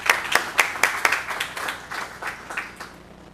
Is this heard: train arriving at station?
no